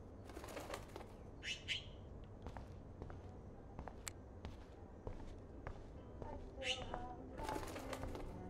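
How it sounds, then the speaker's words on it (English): A trapped bird flaps its wings in a room in the video game Life Is Strange, with repeated bursts of fluttering, a few soft chirps and footsteps in a quiet indoor scene. "that poor little bird has been trapped in here."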